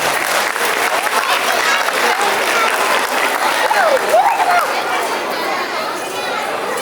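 An audience at a Tamil school annual day certificate ceremony applauds children finishing first grade, steady broadband clapping throughout with crowd chatter mixed in and a brief whistle-like tone near the middle.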